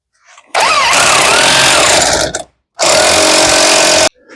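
Impact tool driving on an axle nut of a Chevrolet Aveo, two loud sustained buzzing bursts of about two and one and a half seconds, close up and without talk.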